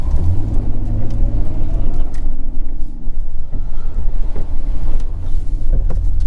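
A 2006 Ford Crown Victoria P-71 Police Interceptor on the move, its engine and road noise forming a steady, loud low rumble that holds without pause and carries no speech.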